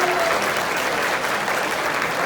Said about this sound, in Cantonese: 俾啲掌聲嚟聽下先